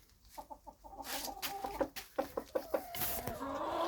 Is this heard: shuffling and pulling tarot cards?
no